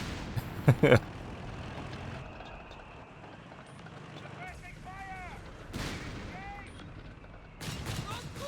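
Artillery barrages and gunfire in the Company of Heroes 3 strategy game, a sharp cluster of blasts early, then scattered distant booms and whistling shells over a low rumbling battlefield, with a commentator talking over it.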